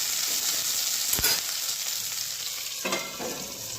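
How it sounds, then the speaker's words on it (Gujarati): Okra (bhindi) cooks in oil in a covered pan on a low gas flame, giving a steady soft sizzle with a couple of brief sharper crackles and clatters, close and unaccompanied by talk. "ગેસને ધીમો કરી અને ઉપરથી ઢાંકણ ઢાંકી અને 5 મિનિટ સુધી ભીંડાને ચડવા દઈશું"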